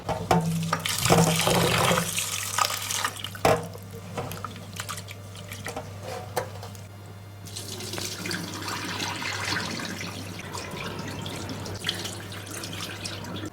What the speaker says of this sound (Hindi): तो यहाँ 5 कप में पानी डाल रहा हूँ